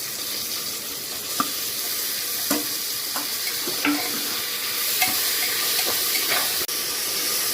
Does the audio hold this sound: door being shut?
no